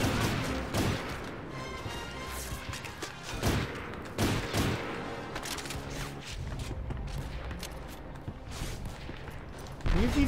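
An artillery cannon keeps firing amid gunfire in the Medal of Honor: European Assault video game, heavy booming shots thudding every second or two over a continuous loud battle din, with no talking.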